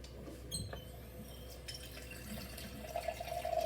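A laboratory tap slowly running water into a large beaker, a steady faint trickle and splash that grows slightly louder toward the end as the beaker fills.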